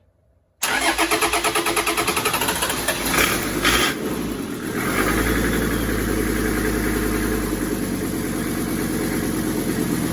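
A Toyota 1PZ diesel engine fitted in a Jeep CJ7 cranks with a rapid rhythmic chug, catches after about three seconds, revs briefly and settles into a steady, loud, close idle with no talking.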